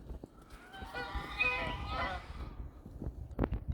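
Geese wary of circling crows give a burst of loud, overlapping nasal honks in the middle of the stretch, close by outdoors in spring, then fall quiet, with some scuffling, faint knocks and low murmuring around them.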